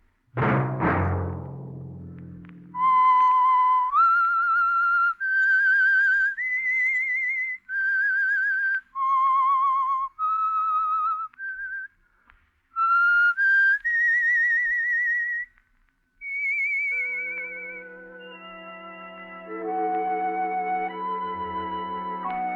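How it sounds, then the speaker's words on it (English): A clear, loud whistled melody, the signal tune of the radio program The Whistler, plays sustained notes stepping up and down, pausing between phrases, ending with a fuller orchestral-sounding chord. "Let that whistle be your signal for the Signal Oil program"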